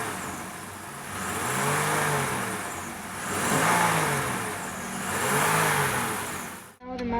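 A car engine revs in three slow swells, rising and falling while airflow is measured for a MAF sensor test, heard close with a steady whir between the revs.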